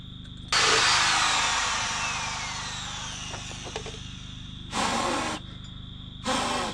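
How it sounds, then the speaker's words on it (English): A power drill whines loudly for several seconds and slowly winds down while drilling holes during garage framing, then two shorter bursts of drilling follow, with no talking. "Couple more holes to drill."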